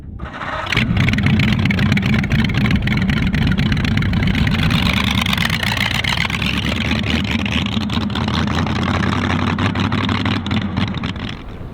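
A motorcycle engine fires up after the fuel was shut off overnight, catching quickly and then running at a loud, steady idle close by for about eleven seconds, with no talking.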